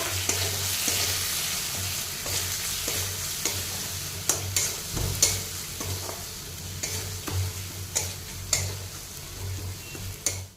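A spoon stirs lentil fritter batter with spices in a hot pan, scraping and clicking in an irregular rhythm over a steady sizzle. The sound is close and fairly loud, with no talking.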